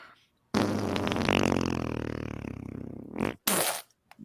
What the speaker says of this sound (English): Do you guys fart like this?